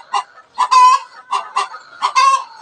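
A brooding hen sitting on a nest of shredded coconut husk clucks up close in short, rhythmic bursts, three loud groups of throaty clucks with brief gaps between them.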